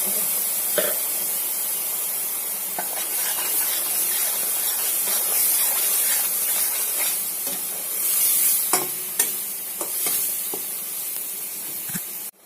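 Onion, garlic and ginger paste frying in a pan for a dhaba-style chicken gravy, a steady loud sizzle with scraping stir strokes and occasional clacks of a spoon, no talk.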